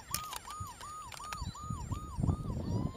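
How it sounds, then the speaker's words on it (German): A Playmobil toy police car sounds an American-style police siren, a fast repeating electronic whoop cycling about seven times over handling clatter and rustle nearby. "Und hier kann man auf B umschalten. Dann hat man diese Sirene. Glaube ich, die amerikanische"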